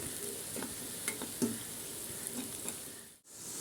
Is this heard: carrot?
yes